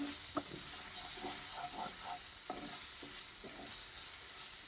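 Taro greens being stirred in a frying pan, giving a steady soft sizzle with a few scattered scrapes and clicks of a spoon against the pan, close and fairly quiet, with no voices.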